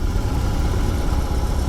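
Steady near idle of a 2021 BMW R 18 motorcycle, a low, even engine throb with a constant level throughout and nothing else over it.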